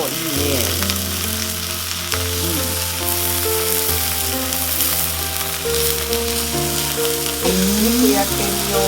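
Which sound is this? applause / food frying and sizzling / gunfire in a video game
food frying and sizzling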